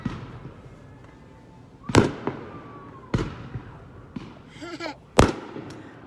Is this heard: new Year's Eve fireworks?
yes